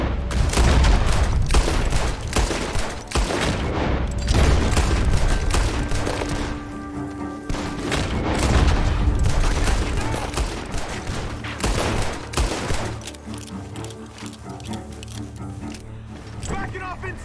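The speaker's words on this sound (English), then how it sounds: "gunshots are coming from that barn" Gunfire crackles from a barn in the Red Dead Redemption 2 game, with repeated loud shot bursts in rapid clusters and voices calling out through the exchange.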